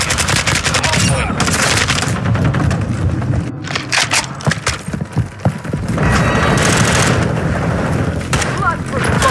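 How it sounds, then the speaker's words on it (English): Call of Duty: Modern Warfare (2022) precision airstrike pounds the area with loud, close booming explosions and crackling blasts in rolling waves, a brief lull midway, while a game announcer voice speaks over the din. "Enemy precision airstrike."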